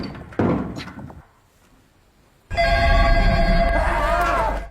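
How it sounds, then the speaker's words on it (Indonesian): A telephone rings in a film scene. A few knocks and thuds are followed by a quiet pause, then a loud, sustained electric bell rings continuously until the end. "telepon tiba-tiba berdering"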